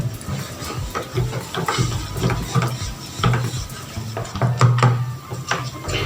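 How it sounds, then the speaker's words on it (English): A spoon scrapes and clinks against a container while stirring a homemade shampoo mixture, giving soft irregular knocks and scrapes over quiet background noise, with no talking. "We're going to stir this very well to have a smooth blend."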